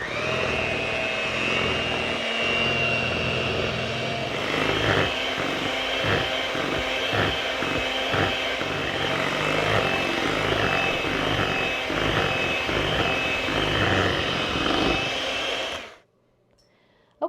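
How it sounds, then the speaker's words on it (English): An electric mixer blending Mountain Dew cake batter, a steady loud whirring drone that holds for about sixteen seconds, then cuts off abruptly into near silence. "we're going to blend for 2 minutes"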